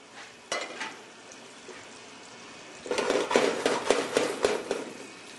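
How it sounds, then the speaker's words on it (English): Asparagus tips dropped into clarified butter in a pan, a quiet sizzle giving way to a louder burst of frying crackle and sharp utensil clacks in the second half. "Now we'll take the asparagus tips, put them in here, let that saute up for a little bit."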